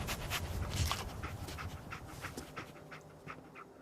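Dogmeat, the companion dog in Fallout 4, panting close by in rapid rhythmic bursts, fairly quiet and fading slightly toward the end, with no talking.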